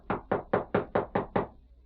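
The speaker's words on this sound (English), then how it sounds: "Knock on the door again." Six firm knocks on a wooden door at a ranch house, evenly spaced in a quick steady rhythm, close and clear with no voices.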